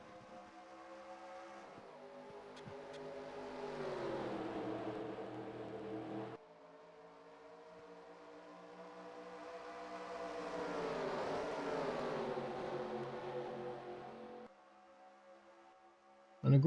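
A field of race cars roars off the green flag at Atlanta Motor Speedway in a Cup Series 500-mile race, engine noise swelling and fading in two long passing waves, loud and droning, with no talk over it.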